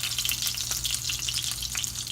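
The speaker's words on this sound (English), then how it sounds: "Okay, so I'm frying it on one side." Meat cutlets (otbivnye) fry in hot oil on medium-high heat, giving a steady, dense sizzle with small crackling pops throughout, close and continuous with no talking.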